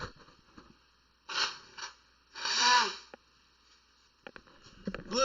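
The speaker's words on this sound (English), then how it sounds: "I gotta blow my nose." A person blows their nose in a few short, noisy bursts, the longest and loudest near the middle, followed by faint rustling and sniffling close to the microphone.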